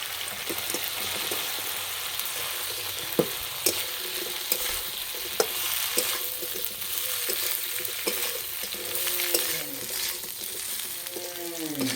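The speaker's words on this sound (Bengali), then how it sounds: "এবার দেবো টমেটো সস, এবার চিকেনের পকোড়াগুলো দিয়ে দেবো।" Chicken pakoras fry and get stirred in tomato sauce in a pan for Chicken 65, giving a steady close sizzle with scattered clicks and scrapes of a utensil against the pan.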